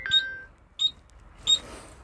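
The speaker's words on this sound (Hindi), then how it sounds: "थोड़ा फ़ोन आ गया।" A phone rings during a truck fault-diagnosis session with three short electronic chirps spaced about evenly apart. The chirps are clear and close, with near silence between them.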